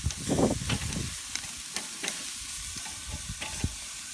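Marinated pork baby back ribs slow-grilling Chamorro style, giving a soft, low sizzle up close with a few light clatters and pops scattered through.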